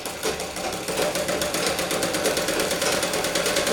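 A sewing machine runs continuously while stitching the front of a blouse, a close, loud, rapid mechanical chatter with an even rhythm and no voices.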